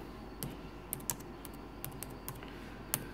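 Typing on a computer keyboard while entering a Scentsy order, a few quiet, scattered key clicks at an irregular pace over a low background hum.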